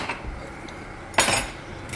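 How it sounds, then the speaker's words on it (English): A metal spoon scrapes once against a pan of rinsed lentils for butternut squash and coconut dhal, a single sharp clink over a quiet kitchen background. "Give this a stir."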